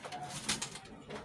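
Pigeons coo softly in a breeding house where a golden male and a white female sit together, a few low murmuring coos rising over a quiet room background.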